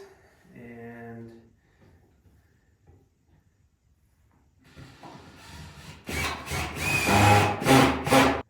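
A power driver sinks 1.25-inch pocket hole screws into a wooden frame for an acoustic panel, with a short burst of whirring early on and a louder, sustained drive near the end, close and fairly loud.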